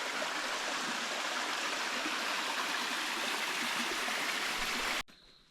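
A clean mountain stream on the trail toward Sri Pada flows in a continuous close rush and gurgle, then drops away sharply just before the end.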